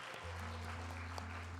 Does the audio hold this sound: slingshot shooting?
no